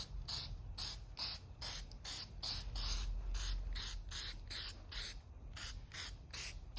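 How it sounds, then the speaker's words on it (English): Quick repeated bursts of aerosol spray paint hissing from a can onto plastic car interior trim, short sharp sprays in an uneven rhythm, close and fairly quiet. "Give it a nice little spray."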